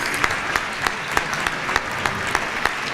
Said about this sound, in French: Richard, vous pouvez l'applaudir